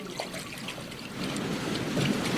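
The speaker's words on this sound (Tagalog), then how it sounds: "May bumubulubok tabi dagat, oh." Water bubbling and trickling at the edge of the sea, a soft, continuous gurgle and splash that swells slightly toward the end, with no talking.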